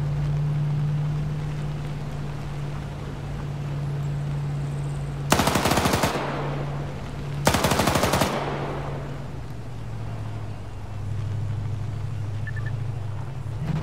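Two loud, close bursts of PKM machine-gun fire in a vehicle-and-boat combat video game, each lasting under a second over a steady engine hum and wind.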